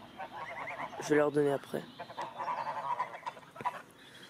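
Geese honk in a noisy, insistent burst, close by, while a person speaks quietly over the calls.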